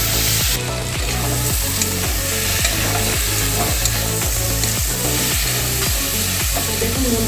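Pointed gourd and potato fry with spice masala and tomatoes in a pan, a steady close sizzle broken by regular rhythmic stirring scrapes, with no talking.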